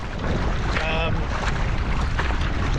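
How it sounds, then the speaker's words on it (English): Strong wind at sea buffeting the microphone while riding a 7'10 Kt Dragonfly 2 board on the water, a loud rushing roar with water splashing and a brief whistling tone, a voice faintly under it. "Today there's more wind than I expected actually"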